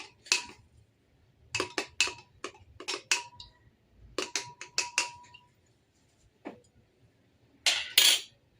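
A spoon stirs an aloe vera extract mixture in a container, with a quick run of sharp clinks and taps in irregular bursts and short quiet gaps between them.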